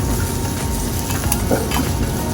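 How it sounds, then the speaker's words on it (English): Shrimp searing in hot canola oil in a pan, a steady, loud broadband sizzle and crackle with no break across the short stretch, plus a few faint utensil clinks. "I'm gonna go ahead and start searing off my shrimp"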